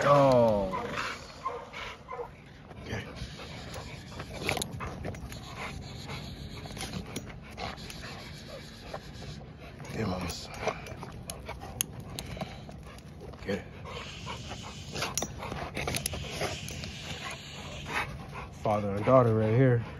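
Dogs pant, whimper and let out occasional short barks close by, with people talking and urging over them throughout.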